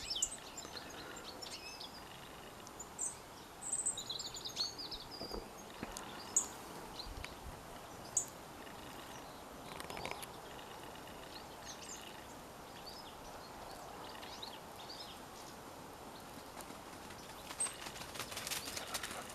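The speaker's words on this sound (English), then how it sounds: "So you can hear there's lots of birds around" Many birds call and chirp around a cottage garden, with scattered close-range calls and wing flutters over a quiet, steady background.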